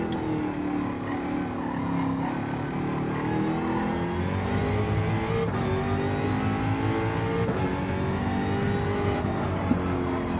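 Jaguar F-Type race car in a racing video game, its engine droning steadily and loudly throughout, with pitch rising and falling through gear changes as it laps the circuit.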